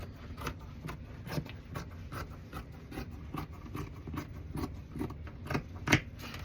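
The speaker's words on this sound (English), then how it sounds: "All right, so I'm gonna cut off some of this." Scissors cut fabric off an old tablecloth in steady, rhythmic snips and rasps, close but fairly soft over a low room hum, with no speech during the cutting.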